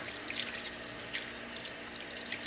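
Running tap water rinses a teal duck skin in a sink during taxidermy washing, a steady broadband splash and trickle with small bursts of spatter, close and continuous without any voice.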